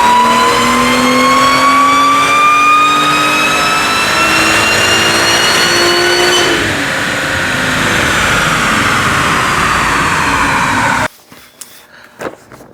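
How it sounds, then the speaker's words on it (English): A tuned car engine revs hard on a chassis dyno during a pull, its pitch climbing steadily through the gears with a brief dip at a shift, loud and sustained, then cutting off abruptly into near silence with a few faint clicks. "Jackal Motorsport, their second run of the dyno pull"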